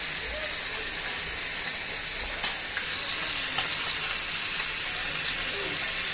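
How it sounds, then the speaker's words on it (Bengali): A large fish head fries in a pan with a loud, continuous hissing sizzle and scattered spitting pops that stay steady and close throughout. "মাছের মাথাটাকে ভেজে নিব, তারপর বেগুন কষায় মাছের মাথা দিয়ে রান্না করব"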